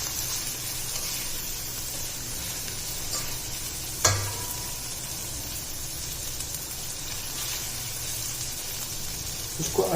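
Ingredients for a chicken soup browning in a pan, giving a steady broadband sizzle throughout, with a sharp clatter of the utensil near the middle and brief scraping at the end, close and moderately loud.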